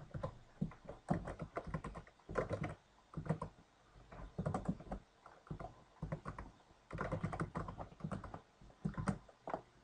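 Code typed on a computer keyboard on a Windows machine, a close series of quick key clicks coming in bursts separated by short pauses, with no talking.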